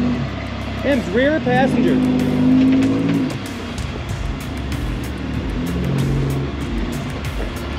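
Rock crawler climbing rocks in Boulder Canyon: a revving engine rises and holds a strained drone, then settles into a lower idling rumble with crunching, while a person calls out spotting directions over it.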